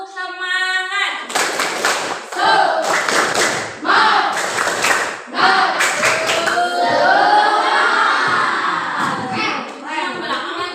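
Group of children doing the rhythmic tepuk semangat spirit clap, bursts of loud patterned clapping in short sets mixed with chanting voices, following a brief sung lead-in.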